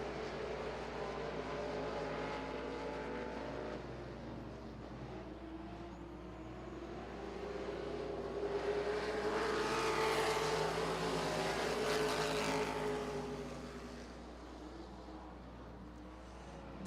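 Race cars roar around a track in a close pack, a faint distant engine drone swelling to a louder pass midway and then fading, with no talk over it.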